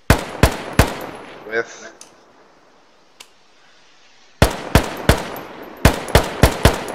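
Sharp, loud rifle shots from a stockless weapon in the RHS video game mod, fired in two quick bursts of three to five rounds each with a quiet pause between, plus a brief voice.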